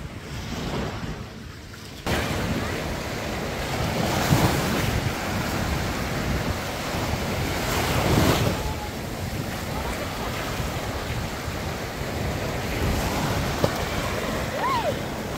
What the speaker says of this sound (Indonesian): Ini pantai.